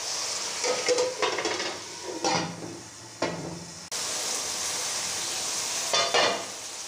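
Moong fritters (mungre) frying in a pan with onion and tomato for a mixed vegetable dish, a steady close sizzle broken by bursts of stirring and scraping, no voices.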